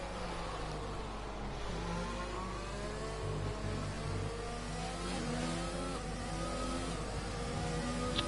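Racing cars in a video game race run their final lap together, engines droning and whining as they rise and fall in pitch through gear changes, a continuous close layered roar.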